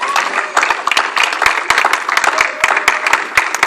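A church congregation applauds after a Bible reading at a Sunday service, with dense, steady clapping from many hands filling the room throughout, loud and close with no pause.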